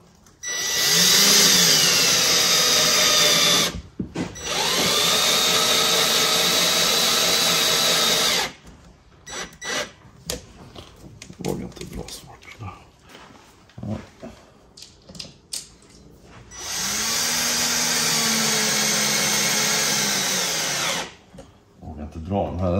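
Cordless power screwdriver on its lowest speed setting driving screws into washers, two long steady whirring runs with a pause and handling noises between, close by.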